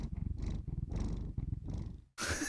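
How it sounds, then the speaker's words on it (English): A cat purrs close to a microphone, with a steady run of rhythmic rumbling purr cycles that ends abruptly in a short burst of noise. "Purr in the microphone."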